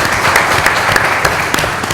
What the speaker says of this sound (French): Exactement, on peut l'applaudir.